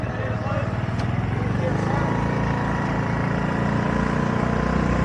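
A scooter's small engine drones at a steady putter while being ridden around the pits at a drag strip. The motor stays close and continuous and speech is mixed in over it.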